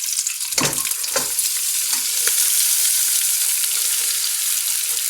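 Chilies, curry leaves and sabudana sizzle and crackle in hot oil in a pan, a steady bright frying hiss broken by a few scraping stirs of a spoon near the start.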